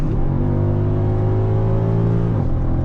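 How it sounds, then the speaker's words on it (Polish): A 2008 Mercedes SL63 AMG with a 6.2-litre V8 accelerating with the roof down, a loud, steady engine drone that climbs slightly in pitch before a brief dip near the end, with no voices. "Tutaj liczy się to, że mamy po prostu olbrzymią V8 pod maską."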